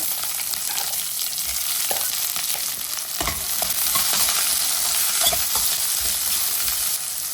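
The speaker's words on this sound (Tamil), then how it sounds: "ஒரு நூறு கிராம் போல் சின்ன வெங்காயம் கட் பண்ணி வச்சுருக்கேன் அதை போட்டுக்கலாம்" Chopped shallots, about a hundred grams, frying in hot oil with curry leaves, a loud continuous sizzle with repeated stirring scrapes and clinks throughout, no talking.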